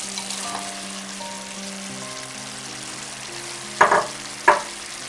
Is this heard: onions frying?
yes